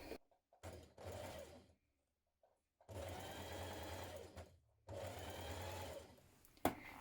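A sewing machine hems the bottom edge of a cardigan, running in three steady bursts of a few seconds each with short quiet pauses between them, close and clear with no talking.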